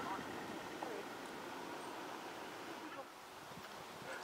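Steady wind blows across a seaside campsite at Normans Bay, a continuous broad rushing roar with a constant level and no talking.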